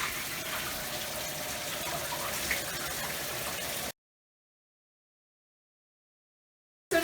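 Warm shower water gushes and splashes steadily over hair for several seconds, close and fairly loud, then cuts to silence before a brief return at the end.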